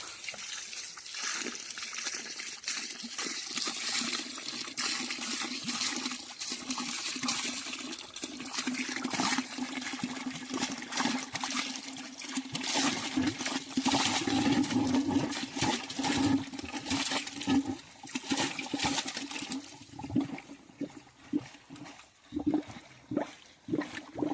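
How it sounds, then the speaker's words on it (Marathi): Water runs steadily from a tap into a container on a farm, a continuous gushing splash with a low resonant tone that fluctuates as it fills. "हा भेंचीचा कॉक चालू केला आहे. हे पाण्यानं हे भरून घेतो आता."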